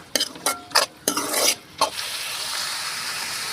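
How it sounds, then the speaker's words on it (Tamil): Tomatoes sautéing in a pan for Tamil dhaba-style chicken varuval, with a spoon scraping and stirring in several sharp bursts over a steady close sizzle that carries on alone after the stirring stops. "தக்காளி கட் பண்ணி உள்ள சேர்த்திக்கலாங்க தக்காளி நல்லா வதங்கட்டுங்க"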